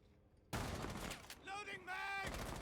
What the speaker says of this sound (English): There were some gunshots happening at the time